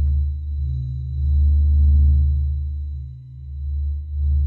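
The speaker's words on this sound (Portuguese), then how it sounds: "Esse é o som que o Sol faz." A sonified rendering of the Sun: a deep, steady low drone with a slow swelling and fading pulse, a faint thin high tone held above it, alone and without speech.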